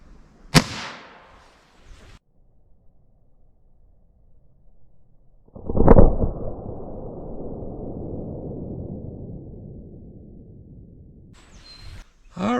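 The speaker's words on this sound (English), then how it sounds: "CCI Stinger 32 grain hollow point. Let's see what we get in the rifle." A .22 LR rifle fires a CCI Stinger 32-grain hollow point into ballistics gel, giving one sharp, loud report, then a second loud crack that trails off in a long fading echo outdoors.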